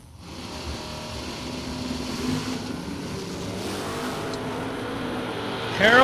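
A drag racing car launches at a Finish Line Customs Superbucks Showdown event, and its engine roar swells and stays loud, with a sharp rise in revs near the end.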